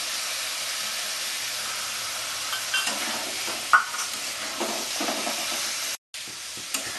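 Chicken pieces with cumin, salt and turmeric sauté in a pan for a Bengali-style jeera chicken curry, giving a steady close sizzle with occasional scraping stirs and a brief dropout near the end.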